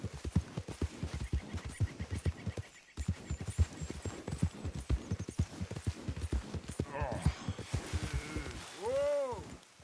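Horse hooves clip-clop steadily in a Red Dead Redemption 2 game scene, close and rhythmic through most of it. A rider speaks over the hoofbeats, and a short whinny-like call comes near the end.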